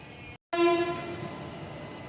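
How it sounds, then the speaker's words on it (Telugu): A superfast express train's horn blares in a loud, sustained tone after a brief silent gap, then fades into the steady rumble of the train pulling out of a station. "ఈ ట్రైన్ అయితే బయలుదేరిపోతుంది."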